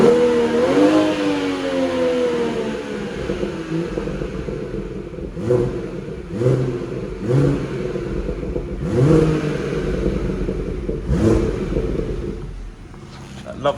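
A BMW M240i's engine is blipped in sport mode with both exhausts open, giving several rising revs and burbling exhaust pops, loud and close, while someone talks over parts of it.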